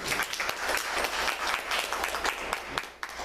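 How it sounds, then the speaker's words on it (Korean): Audience applause for two actors at a persona theatre workshop, a steady dense wash of clapping that runs through the whole stretch, fairly distant, with a few sharper claps standing out near the end. "두 배우한테 박수 한번 부탁드립니다"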